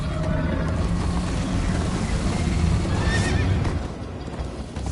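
A horse whinnies loudly over a rapid clip-clop of galloping hooves in the Minecraft Story Mode video game, with a rushing, busy action backdrop.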